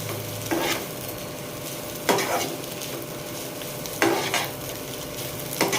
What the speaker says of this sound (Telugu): ఈ విధంగా కలుపుకుంటూ ఉండాలి దొండకాయ ముక్కల్ని.